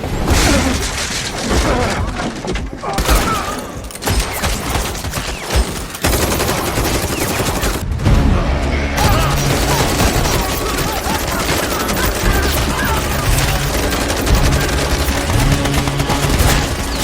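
A war film battle scene is filled with heavy gunfire, a dense, loud barrage of shots and bursts that runs almost continuously, with only brief dips in intensity.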